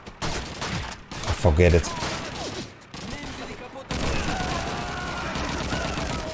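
Automatic MG42 machine-gun fire in the Call of Duty 2 WWII shooter: sustained bursts and scattered shots in a noisy battlefield mix, loud through the clip and heavier in the final seconds, with a voice speaking briefly over it.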